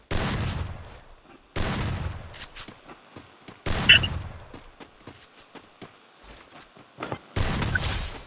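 Bursts of rapid gunfire in a one-versus-one shooting video game, with several loud, sustained volleys separated by quieter gaps that hold scattered single shots.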